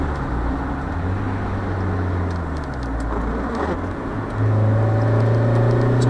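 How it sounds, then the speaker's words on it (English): Mazda MX5 roadster driven hard with only 35,000 miles from new, its engine and exhaust droning steadily and loudly, the pitch climbing near the end as revs rise. "quite a modish exhaust note"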